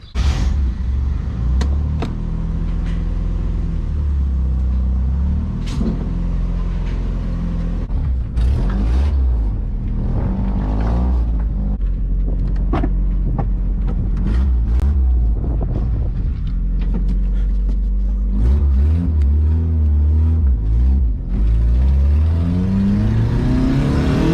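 A turbocharged Mazda Miata with a coolant leak on a test drive, its engine droning loud and close from inside the car, rising and falling through repeated revs and gear changes, with wind and road rumble underneath.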